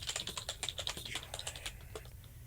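Rapid, uneven clatter of keys on a computer keyboard, close and fairly loud, with bursts of quick strokes that thin out toward the end; no one speaks.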